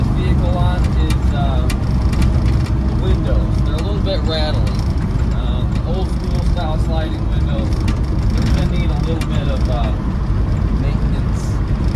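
A 1984 Land Rover 110 with a 300Tdi diesel drives along in gear, its engine and road noise a steady, rough drone up close while someone talks over it.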